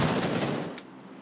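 Gunfire in the Xbox battle-royale game PUBG: a loud, dense burst of shots that fades over about a second, with no voices.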